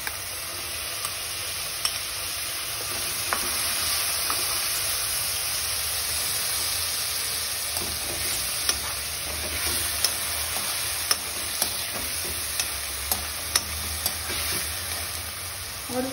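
Onion puree frying in a pan for a sweet corn sabzi, a steady broad hiss of sizzling with occasional faint ticks and spatters, close and even throughout.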